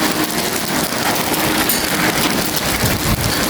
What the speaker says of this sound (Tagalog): Lalakas ng yelo, tumatama sa sakyan ko mga boss, oh.